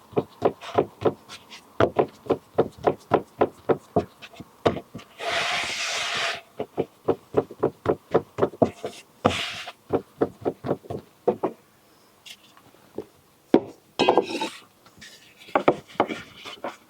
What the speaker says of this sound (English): And I've got a custom rolling pin. Mitre 10. You roll it a bit this way